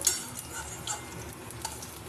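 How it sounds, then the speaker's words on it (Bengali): Steady crackling sizzle of fish pieces frying in hot oil in a pan, with a few faint clicks and pops; continuous and close, no voices. "এক পিঠ ভাজা হয়ে গেছে"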